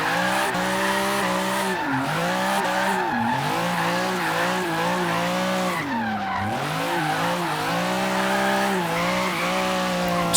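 A BMW M3 E36 in Forza Horizon 3 drives hard with a loud, close engine drone whose pitch rises and falls through the revs, while the tires squeal and skid throughout.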